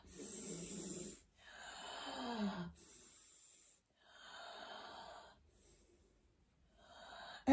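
Rhythmic breathing during kundalini yoga, with audible inhales and exhales alternating in long breaths and brief pauses between, close and fairly soft.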